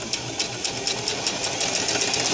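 A sewing machine runs steadily while sewing a zigzag stitch, its needle ticking in a fast, even rhythm that sounds close and fairly loud, with no voices over it.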